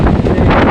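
Strong typhoon wind buffets the microphone in a short, loud roaring gust with broadband rumble and no voices.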